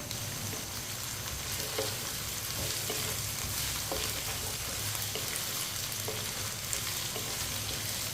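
Okra and potatoes fry steadily in a pan, a continuous even sizzle with faint occasional stirring taps, close and fairly loud with no talking.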